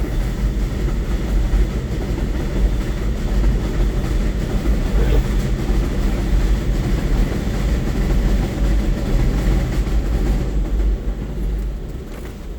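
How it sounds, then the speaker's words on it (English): A train rolls past nearby with a loud, continuous low rumble and rattle that holds steady, then eases slightly toward the end. "let the train go by first before I say it"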